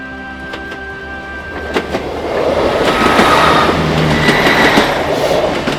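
A train rumbles past on the Kyle of Lochalsh railway line near Lochcarron, Scotland, among mountains, growing louder as it nears, with rhythmic wheel clatter and occasional sharp clicks.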